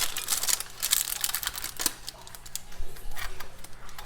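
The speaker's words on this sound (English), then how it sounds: "So we want to cut this just like a pizza slice." Rapid crisp crackling and scraping as a knife cuts a hot keto flatbread pizza topped with cheese into slices, close and fairly soft, a dense run of small crunchy ticks with no talk.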